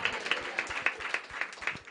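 An audience at a church sermon claps together in a rhythmic, moderately distant burst of applause, steady and brief with no talking over it.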